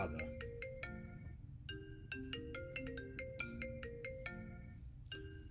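A telephone ringtone plays a bright electronic melody of quick, bell-like notes, repeating through the ring at a moderate, fairly close level.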